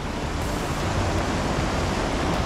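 Mountain river water spills over a small step in an ice-bath spot, making a steady, loud, close rush of broadband noise like a little waterfall.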